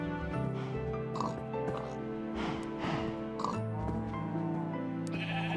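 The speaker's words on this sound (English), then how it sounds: "And boy, is the barnyard noisy." Minecraft farm animals fill a video game barnyard with overlapping sheep bleats and pig oinks, a steady noisy chorus of repeated animal calls layered over constant background game sounds.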